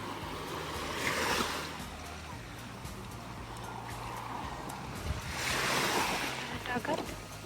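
Sea waves at Motubo beach in Okinawa roll in twice, swelling and washing out with wind buffeting the microphone and faint voices underneath.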